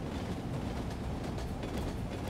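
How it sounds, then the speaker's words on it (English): A train rolls past in the video game Despair, a dense rumbling rush of rail noise that stays steady and fairly loud throughout, with no voices. "Oh, there's a train!"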